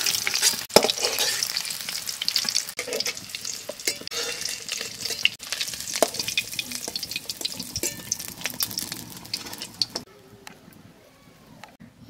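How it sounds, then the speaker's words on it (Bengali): Food fries in hot oil in a pan for a cabbage and egg masala curry, giving a steady, close sizzle with scattered clicks and stirring scrapes before quieting sharply near the end. "এবার ভাজা হয়ে গেছে তুলে নেব।"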